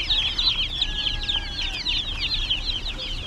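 A flock of about sixty baby chicks peeps continuously in dense, high, overlapping chirps, close and busy throughout with no talk.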